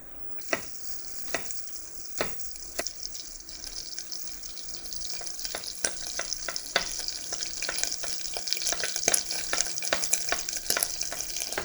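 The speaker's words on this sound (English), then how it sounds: "What we're gonna start is with shallot, olive oil, butter, and garlic in a pan" Shallot fries in olive oil and butter in a pan with a steady hiss and crackle that grows denser and louder, broken by a series of sharp pops and spatters.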